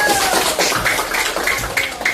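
Primary school pupils clap after a group presentation in a classroom, giving a brief, busy burst of hand claps at close range with children's voices and a few high calls mixed in.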